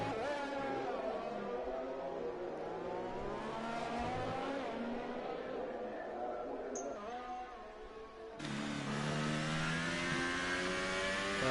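A McLaren F1 race car in a racing video game screams through tricky S-bends, its high engine note rising and falling with gear changes, loud and continuous, with commentary talking over it.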